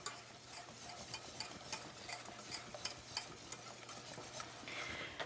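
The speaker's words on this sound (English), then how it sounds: "just stir it in here, make that paste" A spoon scrapes and stirs steadily through flour and melted butter paste in a pan, with a soft sizzle underneath and repeated light clicks against the metal.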